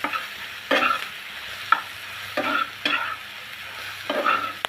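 A spatula scrapes and stirs a pan of frying pumpkin flowers and egg, with freshly added chopped coriander leaves. Several separate bursts of scraping sound over a soft, steady sizzle, and no one speaks.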